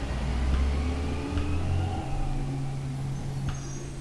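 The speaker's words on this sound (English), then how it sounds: "If you hear a garbage truck" A garbage truck engine rumbles low and steady in the background for the whole stretch, moderately loud, with no talk over it.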